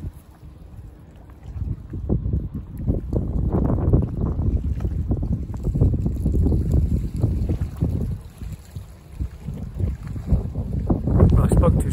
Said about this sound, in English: it's got really windy all of a sudden